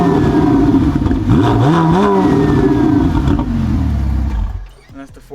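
A Ferrari 488 Pista engine revs loudly close by, climbing and falling in a couple of throttle blips over a steady roar before cutting off, with a voice talking over it.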